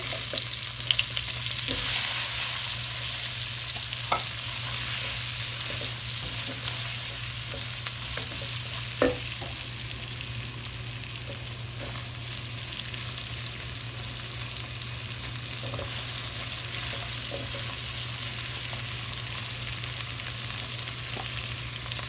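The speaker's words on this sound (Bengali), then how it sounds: "এবার আমি অনিয়ন দিয়ে দিচ্ছি" Onions frying in a pan for shrimp fried rice, a steady hiss of sizzling oil with occasional clicks and scrapes of stirring, loud and continuous with no talking.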